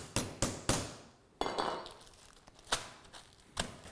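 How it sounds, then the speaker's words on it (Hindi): A ladle pounds chicken flat in place of a hammer: seven sharp, close thwacks, three quick ones, then a gap and four more spaced out, each with a bright clanking edge. "अभी इसके बाद आपको चिकन की पिटाई करनी है"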